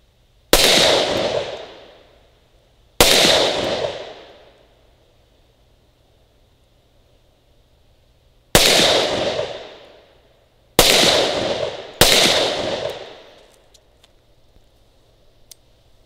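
Five sharp, loud gunshots ring out from a Ruger SR1911 10mm pistol fired slowly for accuracy with 135-grain reloads. Each crack decays over about a second, spaced irregularly with pauses between them.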